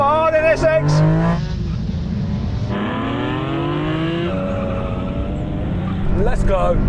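Engines roar and rev hard as JDM cars, including an NSX, accelerate in a drag race, pitch climbing through gear changes, with tire noise and excited voices over the top.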